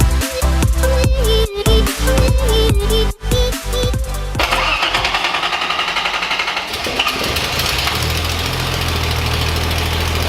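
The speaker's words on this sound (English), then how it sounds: "Alright guys, so the Datsun's running right now." A Datsun 280Z engine cranks with a rhythmic starter whir and stuttering chugs for about four seconds, then catches and runs with a rough, busy roar that settles toward a steadier idle, close and loud.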